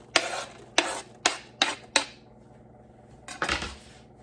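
Dried fruit being stirred into freshly baked homemade granola, a spoon scraping through the mix in five quick, close strokes, then a short pause and one more scrape, with no talking.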